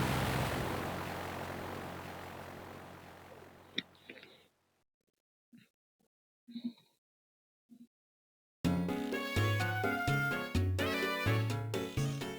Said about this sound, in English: We're gonna take a plane